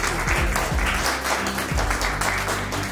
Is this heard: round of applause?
yes